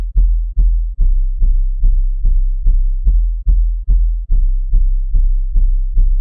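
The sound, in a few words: Jersey club 808 bass pattern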